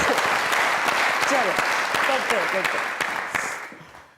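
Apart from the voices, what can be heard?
applause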